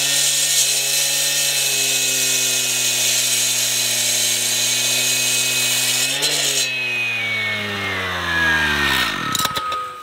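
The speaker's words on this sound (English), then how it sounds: "let's get started and see what the saw can do" An ECHO CSG-7410 gas cut-off saw runs at a loud, steady high whine near by. Near the end the engine pitch falls as it winds down, then a brief clatter follows.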